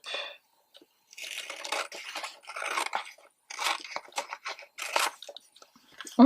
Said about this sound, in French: avec la paire de ciseaux.